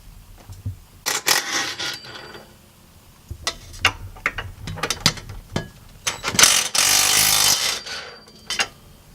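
A hand ratchet loosens rear differential bolts on a Nissan 350Z, heard as close, loud bursts of rapid clicking strokes with pauses between, some longer stretches of fast ratcheting, and no speech.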